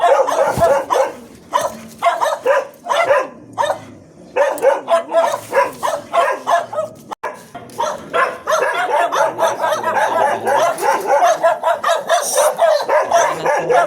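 A dog barks repeatedly in rapid bursts, loud and close, continuing almost nonstop with brief pauses.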